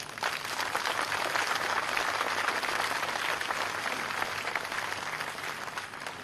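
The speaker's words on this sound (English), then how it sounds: "giving them a rousing clapping" Sustained applause from an audience at a business awards ceremony honoring the jury, a dense steady wash of many hands clapping that holds evenly throughout without voices.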